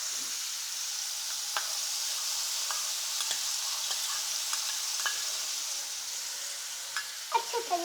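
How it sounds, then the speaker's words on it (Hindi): Garlic fries in a pan at home, for a homemade sandwich filling, with a quiet, steady hiss, scattered pops, and a few clinks of stirring near the end. No talk. "अब हम इसके अंदर गार्लिक भी ऐड कर देंगे"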